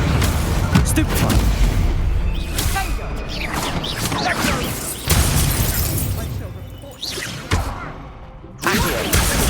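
Stupefy spell combat in Hogwarts Legacy, a dense stretch of booming, crackling magical blasts and whooshes with several sharp bursts, loud and close, mixed with a voice speaking.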